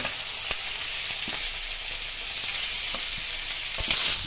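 Minced meat frying with ginger garlic paste in a hot pan: a loud, steady sizzle with occasional stirring clicks that swells slightly toward the end.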